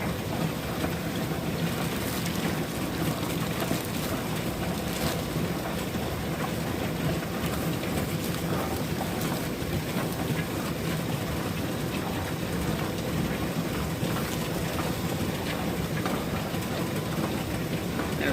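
A vibratory tumbler charged with 600-grit silicon carbide runs continuously, giving off a dense, even rattling rumble that holds steady from start to finish with no pauses.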